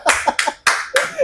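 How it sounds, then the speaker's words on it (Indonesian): A few sharp hand claps in quick, uneven succession, close and loud, with short gaps between bursts, at an Indonesian talk show introducing guests. "Tepuk tangan."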